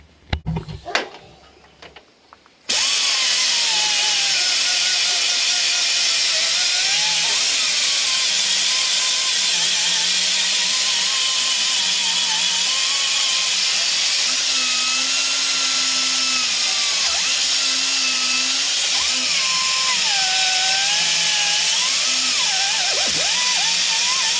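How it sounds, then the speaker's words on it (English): An abrasive whiz wheel grinds old gasket material off a 4.0 Jeep Cherokee engine, a loud, steady high-pitched whine that runs continuously after a brief moment of quieter handling. "we're going to use the whiz wheel to clean it up the rest of the way"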